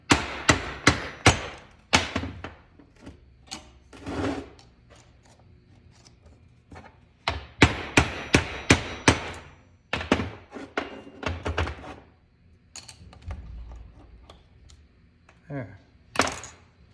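Hammer blows knocking the universal joint out of a John Deere garden tractor driveshaft yoke, sharp metallic strikes in quick bursts of several hits with pauses between, close and loud.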